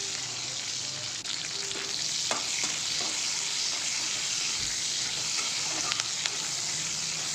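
Chilies, garlic and onion fry in hot mustard oil in an iron wok, giving a steady, loud, continuous sizzle broken by a few short stirring scrapes.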